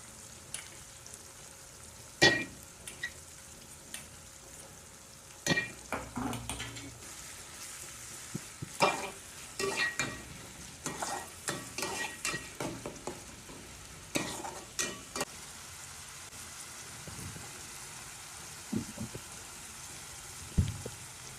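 Ground masala paste for a green pea curry sizzles steadily in a hot pan while a spoon scrapes and knocks against the metal in sharp, irregular strikes, close and fairly quiet, with no talking.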